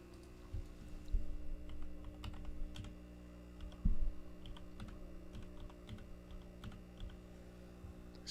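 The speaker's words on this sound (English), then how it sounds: "See if you can hear those keystrokes." Computer keyboard keystrokes click in quick, irregular bursts of typing. They are faint and close, over a steady low electrical hum.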